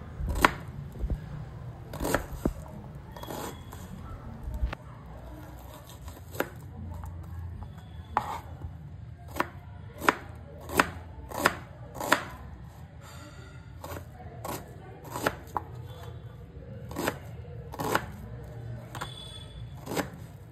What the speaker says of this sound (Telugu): ఒక ఆనియన్ తీసుకొని నీట్గా సన్నగా కట్ చేసుకోవాలి.